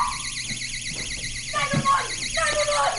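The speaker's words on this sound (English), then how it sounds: "it's time to turn on my door alarm" A home door alarm wails with a warbling, siren-like electronic tone, rising and falling continuously while voices talk over it.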